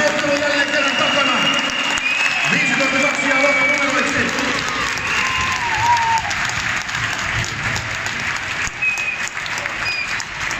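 Arena crowd applauding and cheering after an ice hockey exhibition all-star game, a broad steady wash of clapping lasting throughout, with a public-address announcer speaking over it.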